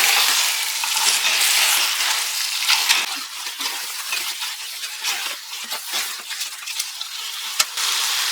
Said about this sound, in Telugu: చికెన్ వేసిన తర్వాత గ్రేవీలోకి చికెన్ని బాగా మిక్స్ చేసేసుకుందాం.